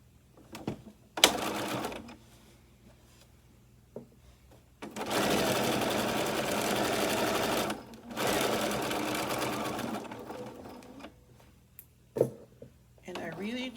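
A sewing machine stitches reinforcement around the corners of a welt pocket with a short, tight stitch, running in two sustained buzzing bursts between quieter pauses with a few clicks and handling knocks.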